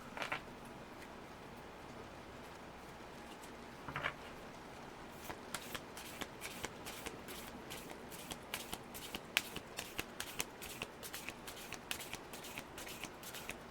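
Tarot cards shuffled close by, with a few soft riffles early on and then a quick, even run of crisp card slaps and flicks at a steady rhythm.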